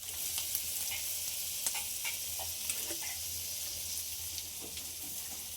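Butter sizzles in a pan as food fries for pav bhaji, a constant bright crackle with faint stirring scrapes and small pops, close and fairly soft.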